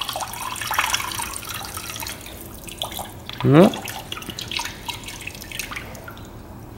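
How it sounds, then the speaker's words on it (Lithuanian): Condensate water drips from a car's oil catch can, a single clear plop standing out against quiet background noise, with a brief spoken interjection nearby. "Nu, yra čia to kondensato."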